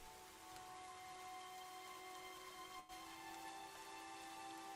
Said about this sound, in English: all you hear is the thunder and the rain,